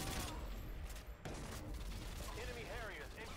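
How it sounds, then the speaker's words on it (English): Dense, continuous automatic rifle fire from an AK-47 in a first-person shooter game, a loud sustained burst that briefly breaks off before resuming, with game effects and a voice talking over it. "One thing about the AK-47 is that you cannot really see what you're shooting at once you start going."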